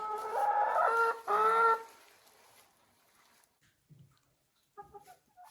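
Hens in a chicken coop let out two loud, close clucking calls at the start, then fall quiet. A few faint, short clucks follow near the end.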